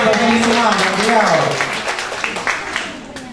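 An audience at an event in Indonesia applauds, clapping steadily and fairly loudly under a speaker's voice and gradually thinning out over a few seconds.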